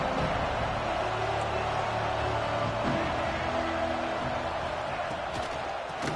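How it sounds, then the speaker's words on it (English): A stadium crowd at an Alabama college football game roars in a dense, steady wash of noise throughout, with a voice speaking faintly under it. "This crowd ready to make its presence known."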